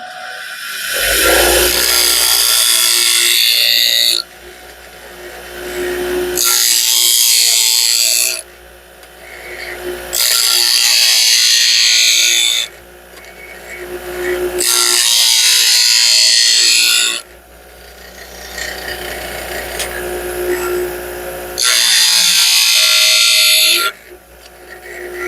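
A 1-inch belt sharpener grinds a tool in repeated passes, about five loud bursts of harsh, hissing abrasion lasting two to four seconds each, separated by quieter motor running between strokes.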